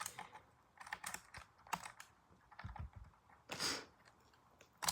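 Blue switches on a Ducky One Two Mini keyboard clack and click in quick irregular bursts of keystrokes, close and crisp against a quiet background.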